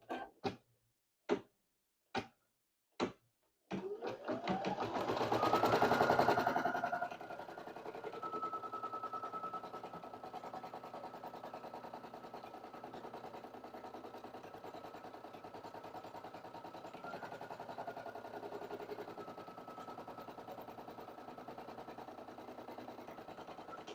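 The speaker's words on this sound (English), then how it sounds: "So I'll go ahead and stitch the first half" An embroidery machine with a 5x12 repositional hoop starts stitching the first half of a design. Several sharp ticks come first, then a loud rising whir settles into a steady, even mechanical hum that runs on alone.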